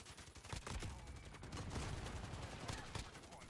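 Gunfire in Modern Warfare, a dense, muffled rattle of rapid shots running throughout, fairly faint and blurred with some background talk.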